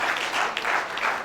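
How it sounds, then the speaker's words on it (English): A brief round of applause for a visiting government minister at a research institute event, a steady wash of many hands clapping at moderate distance, short and continuous. "You're round of applause for you."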